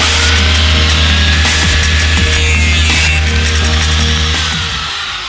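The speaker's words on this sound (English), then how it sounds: "and then I started drilling holes." Continuous loud power-tool whine of a drill boring holes into aluminum plate, steady and close, tapering off near the end.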